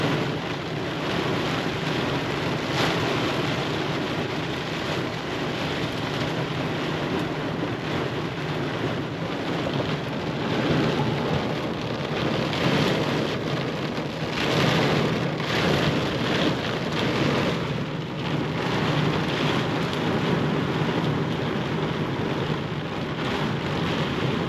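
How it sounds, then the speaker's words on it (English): Heavy rain pounds a tent in a thunderstorm, a loud, dense, continuous roar of drops with gusty wind buffeting the microphone for about twenty-five seconds, with no voices. "It's raining to beat the band now, buddy."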